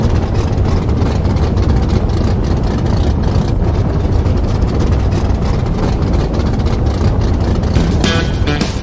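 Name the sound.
racing car engines starting and revving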